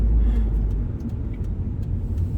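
A car passes close by on a road, a steady low broadband rumble that swells at the start and then settles into continuous traffic-like noise, heard on its own with no talk.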